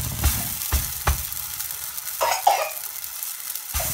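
Msemen flatbread frying in oil in a pan and being flipped, a steady sizzle broken by several sharp scraping and flipping clatters, close up, with no talk.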